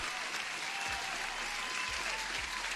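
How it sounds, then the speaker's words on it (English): Applause sounds as a steady, even wash of clapping, quiet and somewhat distant, continuing without a break across the whole stretch. "Huge applause, my man."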